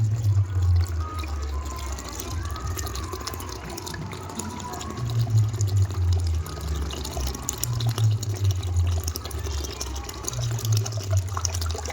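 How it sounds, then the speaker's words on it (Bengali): White damp-proofing liquid pours steadily into cement powder, a continuous close splashing gurgle that swells in waves over a low background rumble. "এবারে আপনারা লিকুইডটা ভালোভাবে ঢেলে নেবেন, ঢেলে মিশিয়ে নেবেন।"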